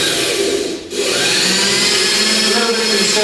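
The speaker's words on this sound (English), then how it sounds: "You'll see that it's very easy to drill," A power drill bores easily through a soft material, whirring steadily and close with a brief dip in pitch early on before the motor runs on loudly and continuously.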